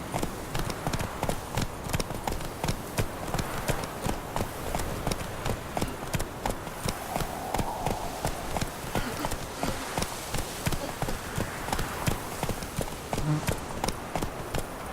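Rapid, rhythmic hoofbeats of a horse galloping in The Witcher 3, a continuous loud clatter of hooves running steadily throughout.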